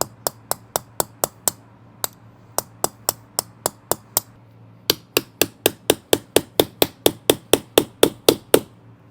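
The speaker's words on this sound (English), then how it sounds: "I think we can just hammer and chisel it into oblivion." A hammer drives a chisel into a Storm and Brunswick bowling ball. Sharp, close metallic strikes land in evenly spaced runs, with two brief pauses before a faster, louder series.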